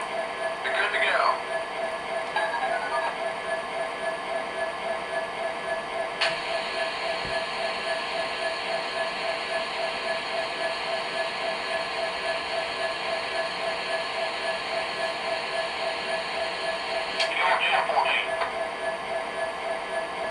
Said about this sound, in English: now that we've gone over some sounds of the locomotive